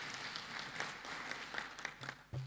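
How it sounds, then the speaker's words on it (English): Applause from an audience at a national parliamentary symposium, a steady wash of clapping at moderate distance with a few louder claps standing out near the end. "Let's also clap for an applause for that."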